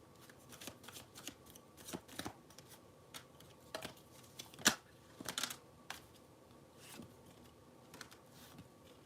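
A tarot card deck being shuffled, a quiet run of soft papery riffles and taps with a few sharper snaps, close up and with no talking.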